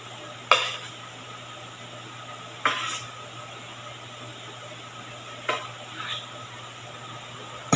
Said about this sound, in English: And then we will add these mango cubes.